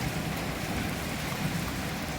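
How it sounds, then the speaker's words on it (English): Steady rain falls in Kingman, Arizona after a possible weak tornado, a dense continuous hiss close by with no pauses or voices. "Still raining from the south."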